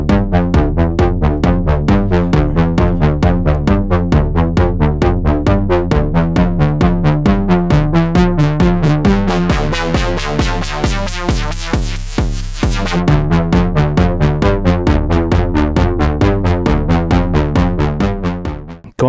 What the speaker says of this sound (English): a dual voltage controlled filter inspired by the classic Korg MS-20 filter